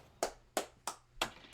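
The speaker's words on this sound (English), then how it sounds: "That was me clapping." Five sharp hand claps ring out at a steady, slightly uneven pace, close and crisp against a quiet background.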